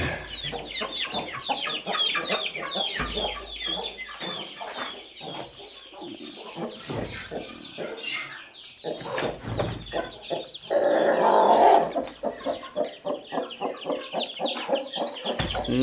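Chickens being let out in the morning cluck loudly and busily close by, many birds overlapping in choppy bursts with a few louder squawks.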